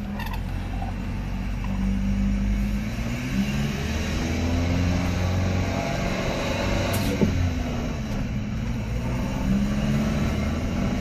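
A supercharged four-wheel-drive Subaru Sambar mini truck drives along, its small engine droning steadily with low harmonic hum, road rumble and occasional creaks or rattles from the cab throughout.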